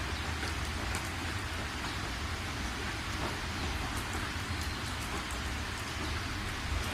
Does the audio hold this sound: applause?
no